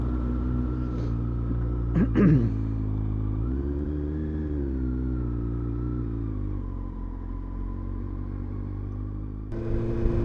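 A motorcycle being ridden home from Matlock, its engine a steady close rumble with harmonic drone that rises briefly as it revs, plus a short clatter near the start.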